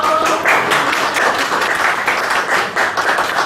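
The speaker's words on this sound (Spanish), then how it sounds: "a quien les pido le demos un caluroso aplauso" An audience claps for a speaker at a lecture on legal regulation of advance directives in Mexico, with dense, steady applause from a sizeable crowd that swells and dips slightly but never stops.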